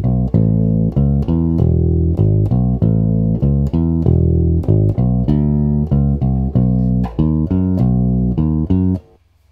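Bass guitar plays the first four bars of the instrumental section of a song: a loud, close, punchy line of plucked notes in a steady, syncopated groove, played alone and ending on a sudden stop.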